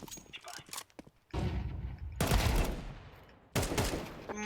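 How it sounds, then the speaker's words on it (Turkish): Pump-action shotgun blasts in a first-person shooter game, a few loud booming shots with sustained noisy tails, heard amid game noise with a voice talking over them. "Oğlum bu pompalı ne kadar güçlü lan."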